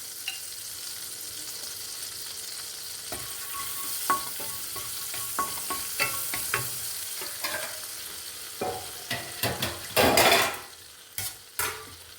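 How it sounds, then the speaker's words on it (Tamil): Cumin and fennel seeds sizzle in salted butter in a pan for a dhaba-style paneer butter masala, a steady crackling fry broken by repeated scraping stirs and utensil clinks that grow busier toward the end. "இதில் வந்து சீரகமும் சோம்பும் தாளிச்சிக்கிறேன்."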